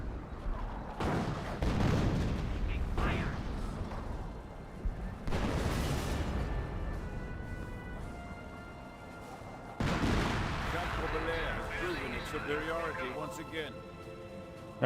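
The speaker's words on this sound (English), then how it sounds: "Pershing firing away." A Pershing tank firing in Company of Heroes: three heavy, booming cannon blasts spaced several seconds apart, each with a long rumbling decay, mixed with other battle noise while a commentator talks over it.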